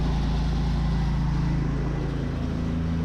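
A pressure washer fitted with a Davis shooter tip runs with a loud, steady motor drone and constant hum throughout the short stretch, with no voices.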